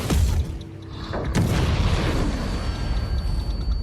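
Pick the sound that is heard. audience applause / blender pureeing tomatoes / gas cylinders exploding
gas cylinders exploding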